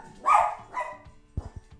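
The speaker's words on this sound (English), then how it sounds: "someone's beeping outside, so the dog's gone crazy" A dog barks close by, two loud barks followed by a few softer yips and muffled knocks.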